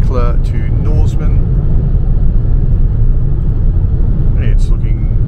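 A car drives on an outback highway from Eucla to Norseman, its steady road rumble and engine drone filling the cabin, with a voice speaking briefly at the start and again near the end.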